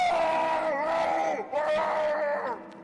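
A young man screams in terror: a loud, sustained, strained vocal cry that wavers and breaks off briefly midway before continuing, then fades out.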